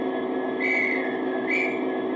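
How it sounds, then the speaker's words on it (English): Two short, thin electronic whistle tones rise over a steady mechanical hum from an OO gauge Hattons Class 66 model locomotive sounding its whistle twice. "10 is a whistle."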